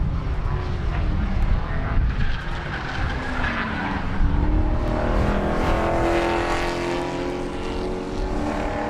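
Spec Corvettes racing at Sebring on the last laps, engines roaring loudly and continuously with rising and falling tones as a pack of cars passes near the microphone.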